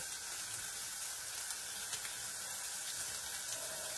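Grated carrot sizzles and fries in a lightly oiled pan on a stovetop, a steady broadband hiss that runs evenly throughout with no voices.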